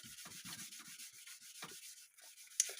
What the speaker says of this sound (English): Just finishing the final stages of polishing.